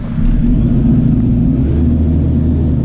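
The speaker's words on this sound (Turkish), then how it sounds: "Diyelim ki şimdi gaz vereceğim." A JCB 4CX backhoe loader engine under throttle gives a loud, close, steady diesel roar and deep rumble that holds throughout without pause.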